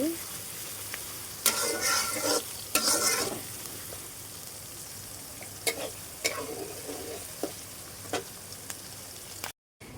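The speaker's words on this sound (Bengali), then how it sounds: "ঝাল পেঁয়াজটা আমি তেলের পরে ভেজে নিচ্ছি" Onions sizzling in hot oil in a pan while being stirred, with a steady frying hiss throughout and intermittent sharp scraping strokes of a utensil, close and moderately loud with no talking.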